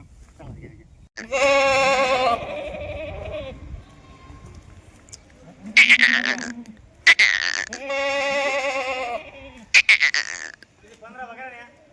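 Goats at a livestock market give several loud, close bleats in separate bursts with pauses between them.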